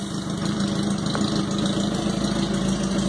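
A carbureted Honda Hornet motorcycle with a sport exhaust idles steadily nearby, a constant moderate engine drone with a fine rapid pulse and no talk.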